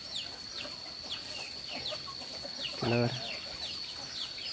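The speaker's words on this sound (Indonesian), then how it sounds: "Dah dilanjut ngasih makan ayam." Chickens cluck softly while being fed at a rural home after a landslide, with short calls scattered throughout, a steady high background tone, and a brief spoken word near the end.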